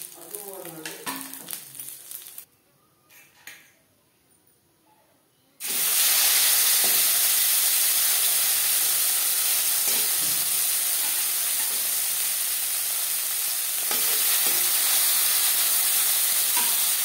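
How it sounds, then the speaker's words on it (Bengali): Small puti fish fry crisp in oil in a pan. After a few seconds of quieter handling sounds, a loud, continuous close sizzle with bubbling and spitting takes over and holds steady to the end. "একটু কড়া করেই ভাজলাম"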